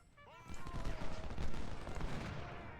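Massed musket volley in the Civil War strategy game Ultimate General: Civil War, a loud, sustained crackle of many overlapping shots rolling on for nearly three seconds after a brief shouted order at the start.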